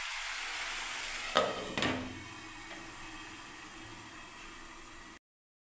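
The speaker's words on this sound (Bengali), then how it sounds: "দেখুন যে আমি মশলাটা কষছি বন্ধুরা, এবারে তেলটা বন্ধুরা দেখুন ছেড়ে আসছে।" Masala spices frying in oil in a pan for a Bengali eggplant and ridge gourd curry, a soft steady sizzle with two scraping stir sounds early, then cutting off abruptly.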